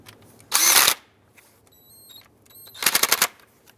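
Power tool tightening an ignition coil bolt on a 2003-09 Toyota 4Runner, heard as two short loud whirring bursts close up, with a quiet pause between them.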